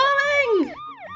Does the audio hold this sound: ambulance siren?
yes